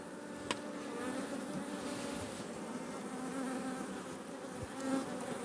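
A steady, dense buzzing of many honeybees in a crowded hive fills the air throughout, close and continuous, with a brief sharp click early on.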